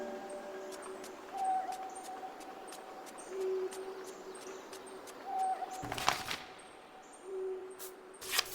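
An owl hoots in short, repeated calls at fairly regular intervals, faint and distant over quiet night ambience, with a few sharp clicks and a brief noisy burst near the end.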